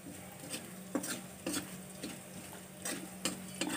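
Three dry chillies and cumin seeds being stirred in oil in a wok over low heat, light sizzle under regular scraping knocks of a spoon, about one every half second, close and quiet.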